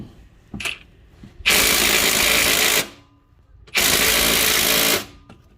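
A Ridgid 18V Octane impact wrench with a 1/2-inch drive hammers at a stubborn Honda crankshaft bolt: two loud, close bursts of about a second and a half each, separated by a short pause, with a small knock before the first.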